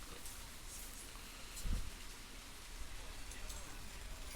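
Steady rain falling on a soccer field at night under the lights during a men's league match, a constant soft hiss with one brief thud midway.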